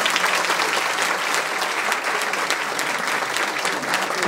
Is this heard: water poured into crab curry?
no